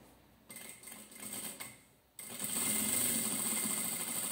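A sewing machine stitches a beach towel bag in short bursts that give way to a steady, continuous whirring run, close and clear with no voices.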